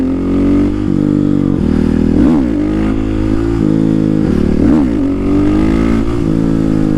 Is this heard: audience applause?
no